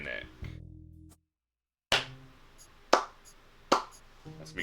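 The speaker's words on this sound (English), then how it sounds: "That's me clapping." Hand claps land as sharp, close, isolated cracks, three or four spaced about a second apart, after a stretch of soft electronic tones and a brief silence.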